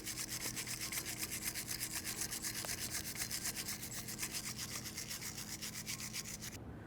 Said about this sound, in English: To clean up the areas with the tins, you could use some sandpaper or wire brush.